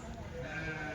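At the Kadiri weekly sheep and goat market, a sheep gives a short, close bleat over a busy murmur of livestock and crowd noise.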